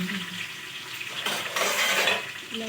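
Goat head curry with fenugreek leaves is stirred with a spoon in a hot pan, a soft scraping swirl over a steady sizzle of frying, close and continuous with a brief louder stir in the middle.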